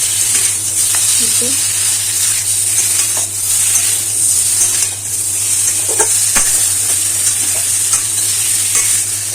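Chicken pieces fry in hot oil in a pan and are stirred; a loud, continuous sizzle runs throughout with occasional scraping of the spoon, and no one speaks.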